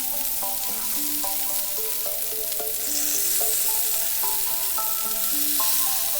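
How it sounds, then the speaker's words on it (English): Kebab meat sizzles on a hot griddle for Middle Eastern cooking, an even, close frying crackle that runs the whole time beneath gentle background music. "flip the other kebab meat."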